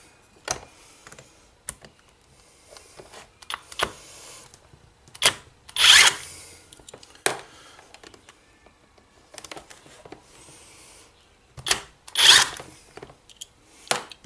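Screws are removed with a power drill on a 2006 Husqvarna YTH2242T lawn tractor, the drill whirring in two short loud bursts amid scattered clicks, taps and handling noises close by.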